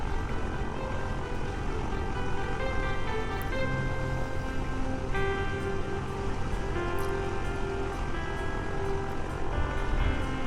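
Small propeller plane built in Kerbal Space Program, its engine droning steadily and loud for the whole stretch with a constant tonal hum and no talking.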